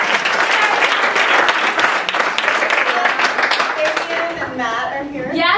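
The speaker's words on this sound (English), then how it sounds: "Big round of applause." Audience applause at a live comedy show, loud dense clapping from a crowd that holds steady then thins, with cheers and voices rising as it fades.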